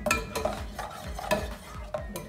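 Onion frying in butter in a pan for a chicken pie crust, with a steady sizzle broken by several sharp scraping stirs of a utensil against the pan.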